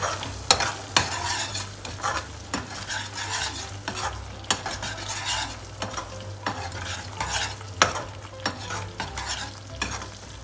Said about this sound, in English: about 1 tablespoon of coriander powder, about half a tablespoon of garam masala, and give it a mix